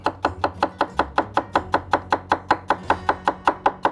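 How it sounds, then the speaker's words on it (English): Chef knife rock-chopping celery on a cutting board, a fast, even run of about twenty sharp crisp chops, close and loud, with no talking. "you can get some really nice, consistent, fine celery chops doing it that way"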